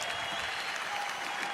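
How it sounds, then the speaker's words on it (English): Applause from a boxing arena crowd after a heavyweight world championship bout, a dense, steady wash of clapping heard from a distance at moderate level for a brief moment. "So please give him a round of applause as our heavyweight champion of the world."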